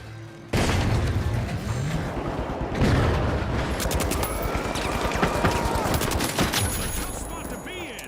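In The Finals shooter game, a frag grenade is thrown and bursts amid a loud, dense mix of rapid gunfire and booms that continue for several seconds after a sudden start.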